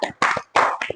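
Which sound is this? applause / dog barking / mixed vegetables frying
applause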